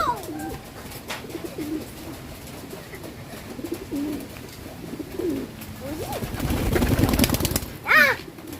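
Pigeons coo repeatedly at bath time, the soft low calls coming up close and recurring through the clip, with a brief burst of wing flapping or splashing near the end.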